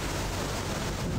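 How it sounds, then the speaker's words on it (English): Seawater washing over the side of a crab boat in Deadliest Catch: The Game, a brief, loud, noisy rush of surf and wind, with no speech. "water coming over the side there."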